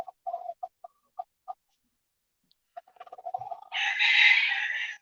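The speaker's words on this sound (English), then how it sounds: "I've got plenty of chickens and roosters" Chickens and roosters on a farm, with short clucks and calls in a sparse series, then a loud rooster crow near the end, fairly close with silence between calls.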